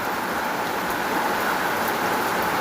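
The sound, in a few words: heavy downpour of rain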